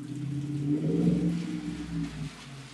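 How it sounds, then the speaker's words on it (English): A muscle car drives by outside, its deep engine rumble swelling as it nears, peaking in a low revving growl, then fading away. "Y'all hear that car going by? I apologize. I'm sorry. Sounds like a muscle car, too."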